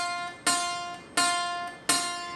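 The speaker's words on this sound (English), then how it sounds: "it actually sounds like I'm pinching the string if I press down too hard" Three plucked guitar notes ring out in an even rhythm, each with a sharp bright attack and a slow decay, the fretting hand pressed down too hard so the string sounds pinched; close and alone, no voices.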